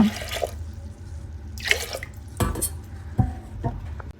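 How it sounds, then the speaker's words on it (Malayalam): Water poured into a pot of lentil curry, splashing and gurgling in short bursts with a few pot clinks, close and moderately loud. "ആവശ്യത്തിന് വെള്ളം ഒഴിച്ച്"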